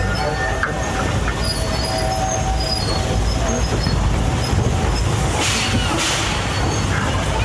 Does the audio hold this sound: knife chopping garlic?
no